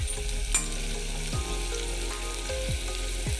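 Chicken pieces fry in oil with a steady sizzle and occasional stirring scrapes at close range. A sustained tonal hum, like music or a loud appliance, runs continuously underneath.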